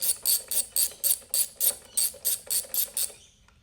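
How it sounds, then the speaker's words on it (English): Roughly ten evenly spaced ratcheting bursts come from a 10mm socket ratchet undoing front bolts on a 4-stroke petrol lawn mower, close and crisp, then stopping. "So we've grabbed a 10mm socket. Let's undo these couple of bolts here on the front."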